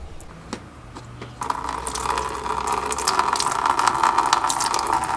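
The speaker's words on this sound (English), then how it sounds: "Just remove your radiator cap and unscrew the drain at the bottom of the radiator." Coolant draining out of the bottom drain of a 1997-2001 Honda CR-V radiator with the B20 engine, a steady close splashing and trickling stream that starts after a brief pause and grows fuller and louder, with no talk.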